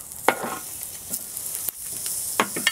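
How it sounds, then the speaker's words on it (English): Oiled chilies and onion slices sizzle on a grill in a steady, close hiss, with a few sharper crackles and pops breaking through and no talking. "here I'm going to put my chilies on the grill"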